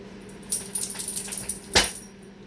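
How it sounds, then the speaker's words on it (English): A dog shaking itself hard indoors, knocking against nearby furniture: a burst of rattling clatter and jingling, then one sharp loud knock near the end, close by. "When your dog shakes so violently they hit things around them with force that it sounds like they're breaking a room"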